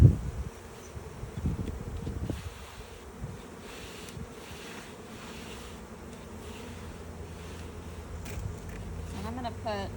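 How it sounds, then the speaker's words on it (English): Honey bees at an open hive buzz loudly and continuously in a dense close drone, with a few knocks and handling bumps early on. "They are pretty loud right now."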